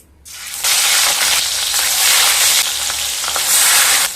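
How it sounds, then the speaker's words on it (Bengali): Katla fish pieces drop into hot mustard oil in a kadai, bursting into a loud, dense, close sizzle that surges and eases in waves for a few seconds, without any voices. "তেলটা গরম হয়ে গেলে মাছগুলো দিয়ে দেব"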